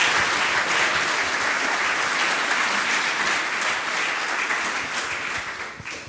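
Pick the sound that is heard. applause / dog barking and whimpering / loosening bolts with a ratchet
applause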